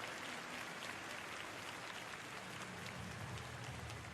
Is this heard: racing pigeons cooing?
no